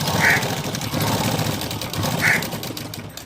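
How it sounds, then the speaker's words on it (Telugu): A sewing machine stitches a blouse waist belt, whirring in a steady, continuous mechanical rattle at close range with a faint high squeak twice. "ఇప్పుడైతే నడుం బెల్ట్ కుట్టుతున్నాను చూడండి"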